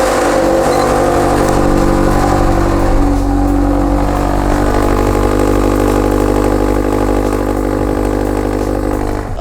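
Scion FR-S fitted with an aftermarket exhaust idles steadily close by, a low droning hum with a slight rise in the revs near the start.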